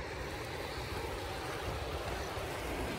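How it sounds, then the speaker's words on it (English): A waterfall on a Sierra mountain trail rushes in a steady, broadband wash, heard faintly from its upper end with no voices. "Oh look, that's a waterfall too."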